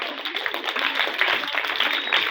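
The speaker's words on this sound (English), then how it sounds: "clap for your teacher now" A classroom of pupils claps for their teacher: steady, dense applause sustained throughout at close range, without pause.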